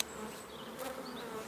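Honey bees buzz around an open six-frame Dadant nuc box during a transfer, a steady close hum with a few brief louder passes of single bees, and no talking.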